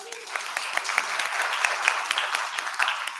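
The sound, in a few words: round of applause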